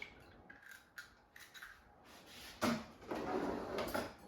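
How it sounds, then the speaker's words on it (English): An egg cracked into a bowl for dipping green tomatoes, a sharp crack followed by a soft, wet spill, preceded by a few light kitchen clicks and handling sounds at close range. "So let's crack the egg."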